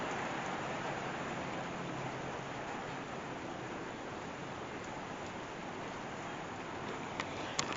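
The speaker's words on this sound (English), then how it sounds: "It is raining and the sun is out." Steady rain pouring down in Florida, a dense continuous hiss of drops hitting surfaces with a few nearer drips toward the end, no voices.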